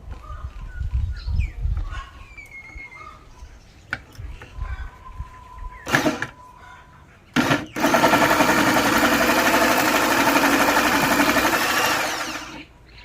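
A Makita 4329 jigsaw starts up and cuts with a loud, steady buzzing whine for about five seconds, then winds down. Quieter handling clicks and faint bird chirps come before it.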